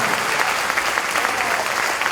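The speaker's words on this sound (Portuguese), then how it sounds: "Pode aplaudir Jesus." A church congregation applauds loudly and steadily, a dense, even clatter of many hands close by.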